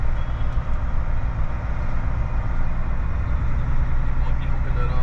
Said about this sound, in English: So he's hooking that double up, or he's unhooking.